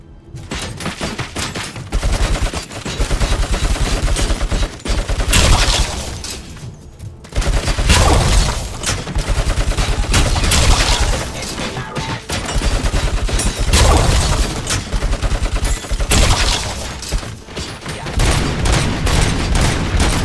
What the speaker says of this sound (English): Civilian minigun. Great. Wonderful. Hope these things don't turn against me.